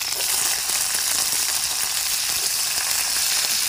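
Green chillies fry in hot oil for a Gongura roti pachadi, giving a steady, dense, close sizzle that holds at an even level throughout with no talking.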